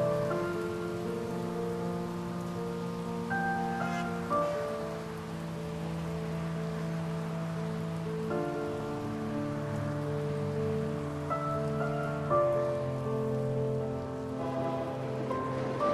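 Rain in the video game Heavy Rain gives a steady, fairly loud patter under slow, sombre melodic music, with no voices.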